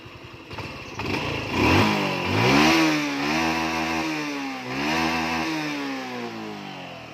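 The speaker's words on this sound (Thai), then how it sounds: "เบิดคันเร่งให้ฟังดีกว่านะครับ" A Honda Wave 110-i motorcycle engine revs up close, the pitch rising and falling in a couple of throttle blips before settling back toward idle.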